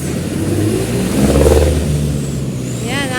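Street traffic with cars and motorcycles squeezing between vehicles in a jam, engines revving and rumbling close by, with faint voices under the noise.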